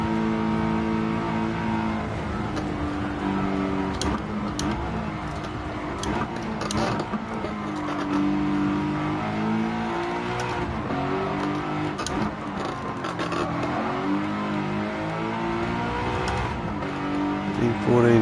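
A car in Gran Turismo 7 winds out in fifth gear, its engine note rising and falling steadily over a long pull, with someone talking over the sustained revving.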